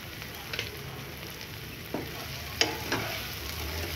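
Ingredients for cherry tomato spaghetti fry quietly in a pan under a soft, steady sizzle, with a few scattered clicks and scrapes from a stirring spoon.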